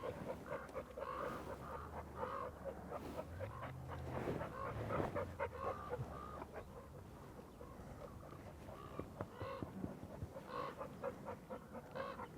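Panting and soft whimpering from a dog, heard close but faint, steady breathing through the whole stretch with no one talking.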